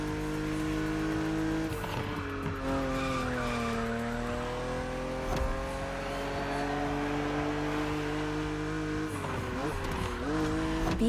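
A BMW Z roadster races in The Crew Motorfest, its engine note rising and falling through gear changes and tyre squeal, loud and continuous with sharp shifts near the end.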